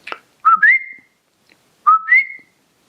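A person whistles an imitation of the Puerto Rican coqui frog's call, a short breathy onset followed by a two-note 'co-kee' phrase that rises into a sustained tone, repeated twice close up with a brief gap between.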